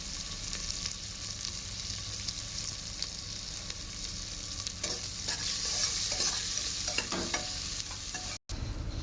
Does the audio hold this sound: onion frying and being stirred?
yes